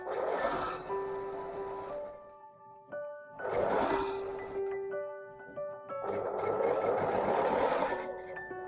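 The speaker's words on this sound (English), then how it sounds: "I'm just going to start right at the bottom edge there of my neckband, make a backstitch, and just sew all the way around the neckband." A sewing machine stitches around the neckband of an upcycled robe in three loud, whirring bursts, with steady mechanical hums broken by brief pauses between runs.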